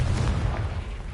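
A fiery spell blast erupts in the Hogwarts Legacy video game as a short, loud, low boom with a rumbling tail.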